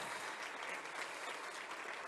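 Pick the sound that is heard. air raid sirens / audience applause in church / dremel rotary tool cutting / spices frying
audience applause in church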